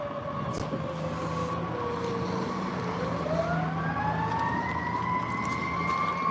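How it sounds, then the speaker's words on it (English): A loud fire truck siren passes along a street in Smithfield, its wailing tone holding steady and then sliding upward in pitch midway, sounding continuously over traffic rumble with no talking. "So, a fire truck coming here."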